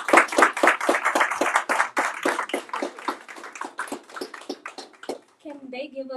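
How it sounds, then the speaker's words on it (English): Audience clapping at a teach-in, a dense burst of many hands that thins out over several seconds, ending with a few scattered claps and a brief voice. "Please clap it up for MXGM"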